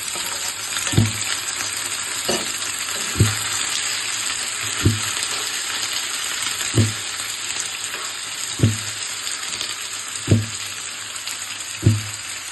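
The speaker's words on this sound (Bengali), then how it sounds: "মাংসটাকে আগে একটু ভেজে নেবো" Goat meat frying in a pan for a wedding-style curry gives a continuous close sizzle, broken by about eight evenly spaced knocks of stirring or turning.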